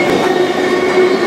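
A freight train rolls toward the Fostoria junction as it slows, giving a loud, steady rumble of wheels on rail with a thin sustained whine, heard from on board, with no voices.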